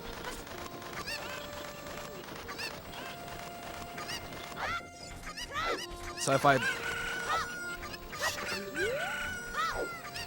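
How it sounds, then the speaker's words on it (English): Cuckoo chickens squawk and cluck in Zelda: Ocarina of Time, a dense flock of shrill, overlapping cries swelling to an agitated burst near the middle, with a brief voice speaking. "aggroing a cuckoo or chicken there used to give me nightmares"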